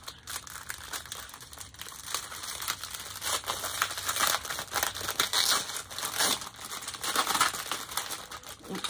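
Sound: plastic bag crinkling as its glue comes off

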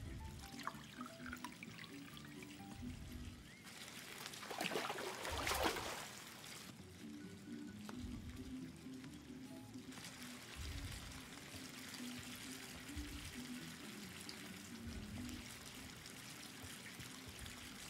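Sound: water pouring in the video game Life Is Strange 2

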